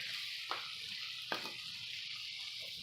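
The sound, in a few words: flour frying and being stirred in grease on a box stove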